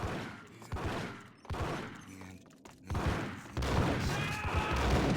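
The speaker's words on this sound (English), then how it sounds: "Oh, the crackheads are shooting at me now, too." Enemies firing guns in the video game Max Payne, bursts of rapid gunfire in several volleys growing into a sustained barrage, with clattering impacts in between.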